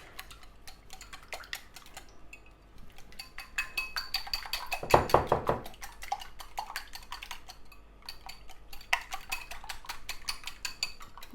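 Eggs being whisked with Adyghe salt in a bowl in a home kitchen, heard as a fast run of light metallic clinks and ticks against the bowl, with a louder, busier burst midway and no talk over it.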